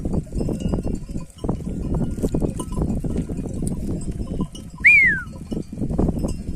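A single sheep bleats briefly amid a busy farmyard bustle of rustling, shuffling animals and faint clinking.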